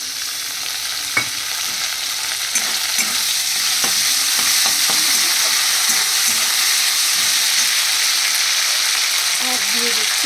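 Ginger paste frying in a pan for a vegetarian moong dal, a steady loud sizzle with scattered clicks and scrapes of stirring throughout.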